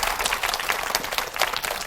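Dense, sustained applause from a studio audience at a televised lecture featuring a clarinet ensemble, with a full, continuous wash of many hands clapping close and loud.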